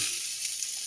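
Cucumber frying in spiced masala in a pan gives a bright, steady sizzle, close and fairly loud, with a faint stir partway through and no talking.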